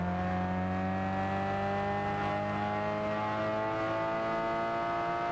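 A race car engine in Gran Turismo 6 drones at steady high revs with a smooth, layered whine, holding even and continuous with no talk over it.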